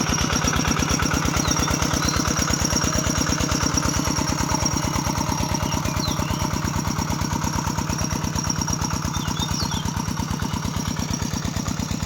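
A walking tractor engine idles in a rice field, a loud, close, single-cylinder thump repeating rapidly and evenly throughout with no break.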